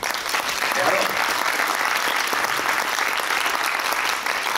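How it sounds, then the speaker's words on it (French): Audience applause after a speaker at a conference on financialized capitalism, a dense steady clapping from a large room that holds at even loudness throughout. "merci cher Philippe, applaudissez-le."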